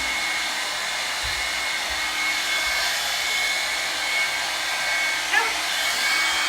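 A hair dryer blows steadily while drying fine hair, a close, loud continuous whoosh with a faint whine and a few soft handling bumps, no talking.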